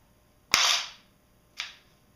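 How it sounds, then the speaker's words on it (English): A G&G CQW Rush M4 airsoft gun gives two short, sharp clacks from its forward assist spring decompressing, the first loud and the second fainter, about a second apart, close and alone. "So if you just listen carefully, you should be able to hear it decompressing the spring."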